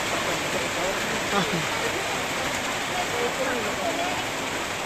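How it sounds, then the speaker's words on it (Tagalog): Heavy rain pours steadily during a rainy ride, a dense, continuous hiss that stays loud and even throughout with no clear breaks. "Ay kusog ilang ulan."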